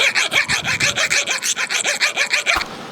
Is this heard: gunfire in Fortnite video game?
no